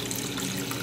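An iPhone 4 wrapped in waterproof film is dipped into water, making a brief, close sloshing, trickling burst with no voices.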